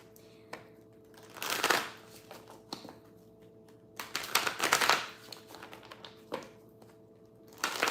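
Tarot cards are shuffled in bursts, papery riffles and flutters with soft taps between them, close and moderately loud over a faint steady background hum.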